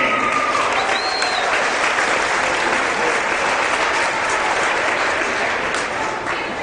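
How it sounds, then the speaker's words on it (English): A basketball arena crowd breaks into sustained applause during a pre-game ceremony at a men's college game, a dense, steady clapping roar that holds evenly throughout with a few faint voices beneath. "Ladies and gentlemen, now a round of applause for Lauren DeMee and Joe Craig."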